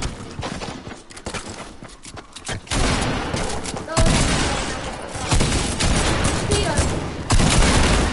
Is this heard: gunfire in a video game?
yes